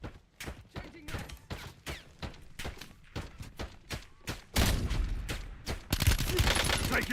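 Gunfire in a night-time shooter game, with rapid shots and bursts coming in dense volleys that grow louder and heavier toward the end, along with some thuds and faint game voice lines.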